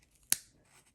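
A single crisp snip of scissors cutting fabric for paper-pieced quilting, one sharp close cut in an otherwise quiet room.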